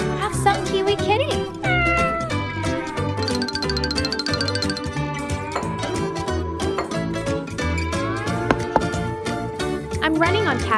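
A cat meows repeatedly amid a busy backdrop of music with light chimes and tinkling, its cries close and clear over the steady track.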